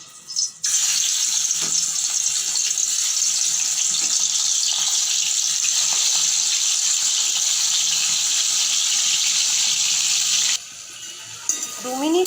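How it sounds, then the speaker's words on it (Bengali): Shrimp lightly fried and stirred in a second pan on the stove, cooked with taro stolons in a traditional recipe: a steady loud hiss runs about ten seconds before cutting off, with faint clinks now and then. "দু মিনিট করে আমি চিংড়ি মাছটাকে নেড়ে চেড়ে একটু হালকা করে ভেজে নিলাম।"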